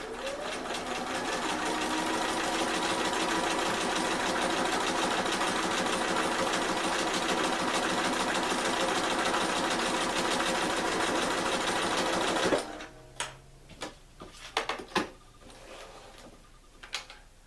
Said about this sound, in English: I'm going to sew right up to the edge of it.